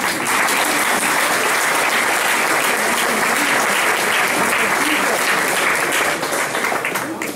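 Loud, dense applause from a crowd at a Venetian independence rally in Tezze, a sustained wall of clapping that holds steady before easing slightly at the end.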